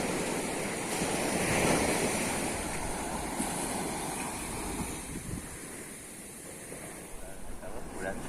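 Morning waves on a Konkan seashore, a soft continuous wash of surf with gentle swells and light wind noise, moderately distant and fairly quiet, with no clear talk.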